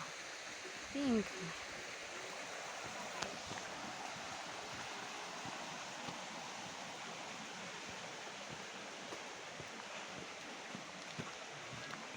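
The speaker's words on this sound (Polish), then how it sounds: "Rzeka płynie." A river flows through the Homole gorge with a steady, continuous rushing wash of water heard up close, broken once by a short voice sound near the start.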